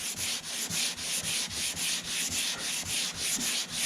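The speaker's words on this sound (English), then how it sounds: "sanding with a block kind of brings out the highs and lows" Steady back-and-forth rasping of a sanding block on body filler during car bodywork, strokes repeating about twice a second, close and even.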